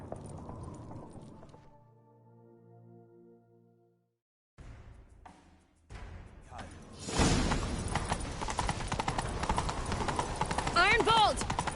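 Horse hooves clip-clopping into a gallop in The Witcher 3, starting after a near-silent stretch and building to loud, rapid hoofbeats with whooshing motion and a brief whinny toward the end.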